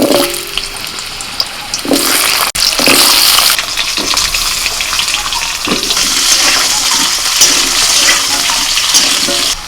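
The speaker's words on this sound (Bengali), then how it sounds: "কড়াইতে তেল দিয়ে এবার দিয়ে দিচ্ছি আলু" Potatoes hit hot oil in a kadai wok and sizzle loudly and continuously, with a few sharp clatters of stirring, close and with no voices.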